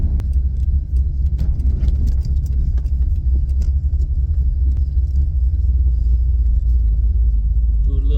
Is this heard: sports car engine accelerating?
yes